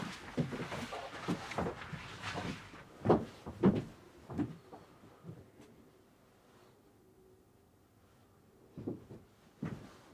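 A door being opened in a quiet home, heard as a few close knocks and thuds of handling and movement early on, then near silence before two brief bumps at the end.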